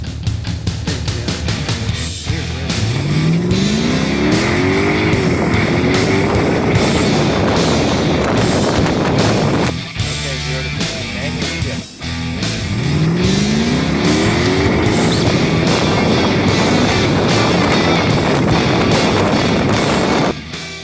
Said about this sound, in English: 0 to 60, no paddles.